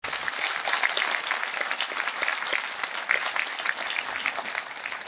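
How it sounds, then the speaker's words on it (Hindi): A church congregation applauding together, a full steady roar of many hands clapping for several seconds with no break. "आइए यीशु के लिए जोरदार ताली बजाएंगे। Give a best clap offering to the Lord."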